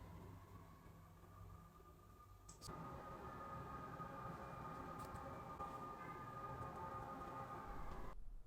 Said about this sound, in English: Oh my gosh, sirens. The joys of living in New York City.